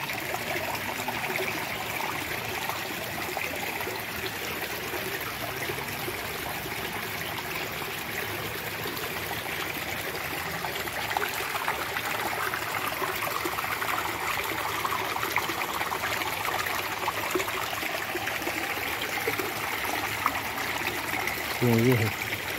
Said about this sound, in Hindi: ये जो है पानी का सिस्टम है, ये सारा उसको पानी पर इस तरीके से दे रहा है।